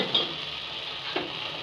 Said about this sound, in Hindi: तो प्रॉपर ये अपना ऑयल नहीं छोड़ देता, तब तक मुझे इसको फ्राई करना है।